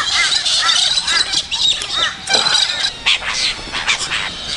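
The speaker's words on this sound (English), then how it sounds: "listen to the birds." Morning birds call busily around a bush campsite at O'Briens Creek near Mount Surprise in North Queensland, a dense chorus of bright chirps and warbles close by, with no voices.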